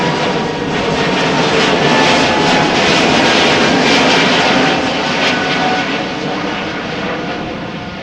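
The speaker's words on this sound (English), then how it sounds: "E2 Embraer 195." Embraer E195-E2 jet airliner at Amsterdam Schiphol Airport, its engines a loud, steady roar that holds near-constant for the whole stretch, easing only slightly at the end, with no voices.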